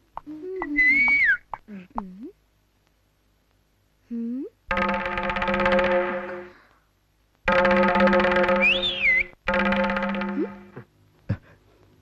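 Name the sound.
old man whistling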